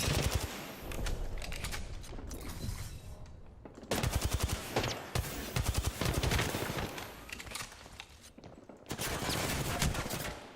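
Sustained automatic gunfire in Apex Legends Season 10, rapid loud bursts rattling in long stretches with brief pauses between, close and dominant over the game soundscape.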